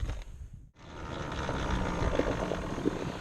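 A Yamaha Banshee two-stroke engine held steady at midrange throttle with a nasty flutter, buzzing continuously and fairly loud after a brief dip near the start, with no talk.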